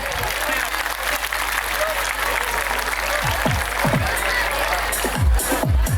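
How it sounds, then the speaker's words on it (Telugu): A crowd claps steadily for little kids at a stage event, a dense close patter of many hands, with a few low thumps and bumps near the end. "దయచేసి అందరూ గట్టిగా చప్పట్లు కొట్టండి."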